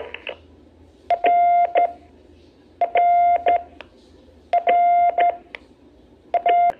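Four short bursts of Morse code tones repeat at even intervals, each a quick pattern of short dits and long dahs, clear and close with quiet gaps between.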